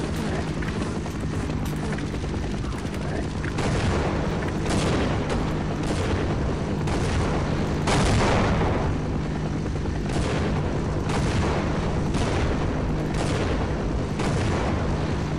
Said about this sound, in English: I'm gonna keep shooting this wall for a bit.